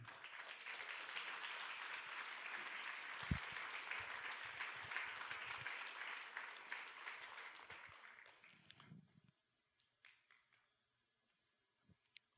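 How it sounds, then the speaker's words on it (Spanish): A church congregation at a Spanish-language sermon breaks into sustained, dense applause for about eight seconds with a few shouts mixed in, then it fades quickly into near silence with scattered small noises. "Denle un aplauso al Señor."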